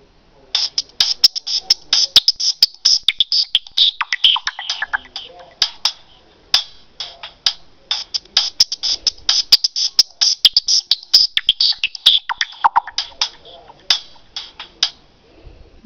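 Hop ringtone from a Nokia Lumia 520 Windows Phone: a quick run of bright, ticking chirps repeating in two long bursts, loud and close.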